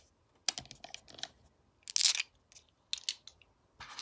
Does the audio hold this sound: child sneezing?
no